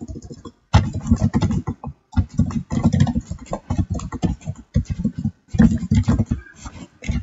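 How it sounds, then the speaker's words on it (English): Bursts of rapid typing on a computer keyboard, close and clear, with short pauses between runs of keystrokes. "I can type anything here"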